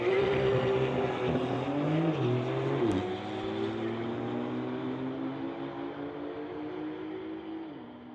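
A 2020 Porsche at a street-legal drag race holds a strong, steady engine drone that shifts pitch twice, heard from a moderate distance and fading slightly toward the end.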